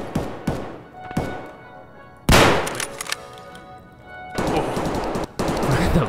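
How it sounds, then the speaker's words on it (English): Gunfire rings out in Escape from Tarkov: loud, sharp single shots early, then heavier rapid bursts of automatic fire near the end, with no talk. "I'm gonna shoot him in the face."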